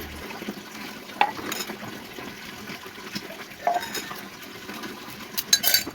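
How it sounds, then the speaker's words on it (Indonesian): Dishes and cutlery being washed at home: soft clinks of plates and utensils with running water and occasional louder chinks over a steady background hiss. "saya lanjut mau cuci piring"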